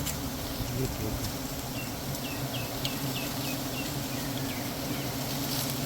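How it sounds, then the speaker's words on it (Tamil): Honey bees in a wild hive on a Commiphora caudata tree are smoked out during a honey harvest outdoors, making a dense, steady buzzing drone with faint chirps and muffled voices in the background. "புகை படம் அப்படியே தேனீக்கள் கலைய ஆரம்பிக்குது"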